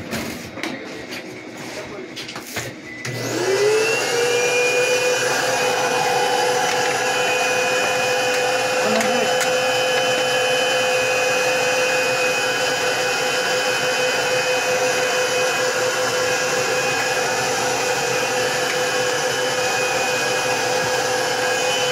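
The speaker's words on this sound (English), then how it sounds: "Take this vacuum." A vacuum cleaner starts up after a few seconds of clattering and runs loudly and steadily while cleaning a Ricoh MP 7503 copier, its constant high whine filling the rest of the stretch with no talk over it.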